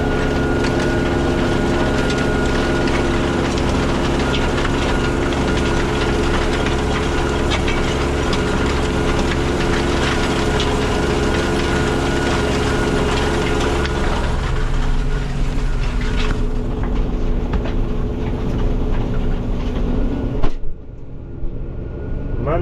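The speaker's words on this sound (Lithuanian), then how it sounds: "Man labai patinka klausytis sėjalkas tų garsų, kaip ten viskas darbuoja" A tractor pulling a seed drill and cultivator while sowing wheat, a loud continuous engine drone with a mechanical rattle and hum that holds steady for a long stretch, then thins and drops away near the end; no voices.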